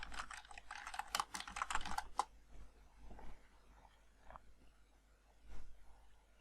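Someone types a Linux command on a computer keyboard: a quick burst of close keystrokes in the first two seconds, then a few sparse, quieter taps.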